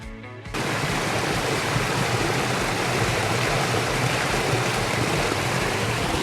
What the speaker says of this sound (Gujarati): પાણીનો આ અવાજ સાંભળીને જ મજા આવી જાય માઇન્ડ ફ્રેશ થઈ જાય